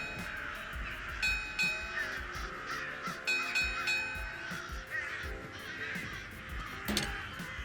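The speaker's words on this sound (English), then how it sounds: "the murder of crows circling up above" A murder of crows caws overhead near a cemetery mausoleum in the video game Redfall, with repeated harsh calls rising over a busy game soundscape and some rumbling background.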